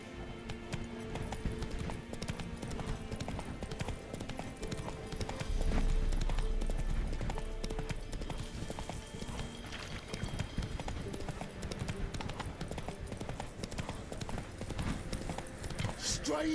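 Hooves of Roach, a horse in The Witcher 3, clip-clop steadily at a gallop close by under loud game music and shouting voices, with a low rumble swelling midway.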